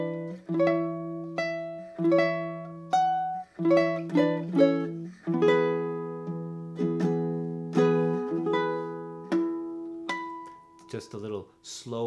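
Ukulele in a hypnotic open tuning plays a Christmas solo, the advanced B section, with plucked notes and ringing chords in a steady, slow rhythm, close and clear with no talking.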